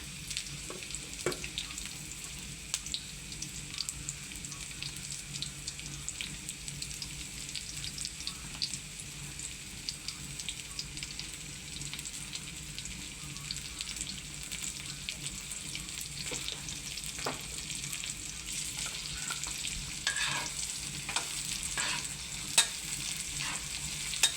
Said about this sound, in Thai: ลงไปผัดก่อนเลยนะคะ